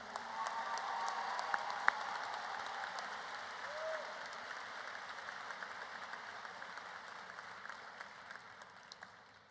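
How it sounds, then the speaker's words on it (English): Sustained round of applause from a graduation ceremony audience for the class of 2025, a steady crowd-wide clapping wash at moderate distance with a faint voice or two underneath, slowly tapering over the clip. "How about one more round of applause for Tegan and Shub?"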